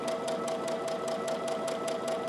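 A sewing machine runs steadily and close at a moderate, even pace while stitching a cloth napkin with mitered corners, its needle ticking in a regular rhythm under a constant motor hum, with no talk.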